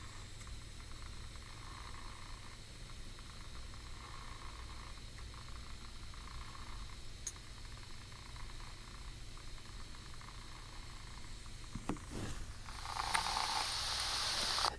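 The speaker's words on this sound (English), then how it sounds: "you're gonna hear the purring get a little bit louder" A cat's low, steady purr rumbles on continuously and close, recorded on an HTC U12 Plus phone, with a brief hissy rise of noise near the end.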